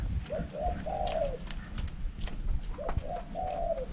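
Spotted dove cooing twice in a short, rising-then-level phrase, kept as a backyard bird in rural Isan, Thailand; moderately close calls over a steady low background hum.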